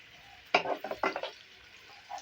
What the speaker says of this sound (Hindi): चलिए ये डाल देते हैं और इसको थोड़ा सा फ्राई कर लेते हैं